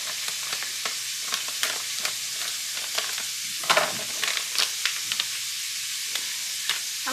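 Pork chops sizzle steadily in a frying pan, a constant bright crackle with scattered pops and spatters, close and without voices.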